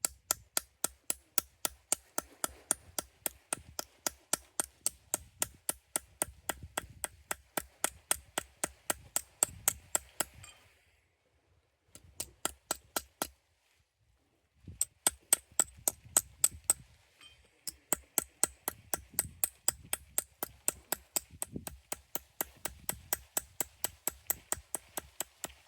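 Rapid, regular metallic taps of the rounded side of a ball peen hammer texturing thin tin, dozens of sharp close strikes in steady bursts with a few brief pauses between runs.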